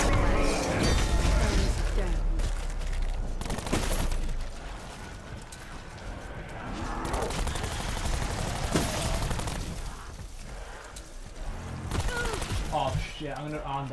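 Rapid, dense automatic gunfire in Black Ops 4 Zombies, loud and close, with mechanical reload clicks and bursts that thin out midway before picking up again, while someone talks over it.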